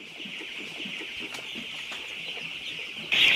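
Chickens on a Cameroonian poultry farm of more than 2000 birds cluck under a steady high-pitched chorus, a dense continuous flock noise with a sharper call rising loudly at the end.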